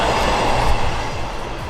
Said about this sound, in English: Yes, a train.